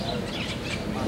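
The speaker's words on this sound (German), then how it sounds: "Hier haben wir schöne grüne Papageien, die fliegen hier stolz und quer." Wild green parrots call from trees near a hotel pool in Torremolinos on the Costa del Sol, giving scattered squawks and chirps over a dense, noisy outdoor background.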